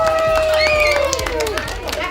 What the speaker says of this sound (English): Can you all clap for her?